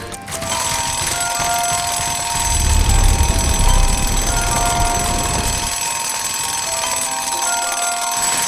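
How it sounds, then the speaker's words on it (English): A bell-style alarm clock rings steadily and loudly without a break, a shrill sustained metallic ringing with a low rumbling swell partway through. "The alarm clock keeps ringing."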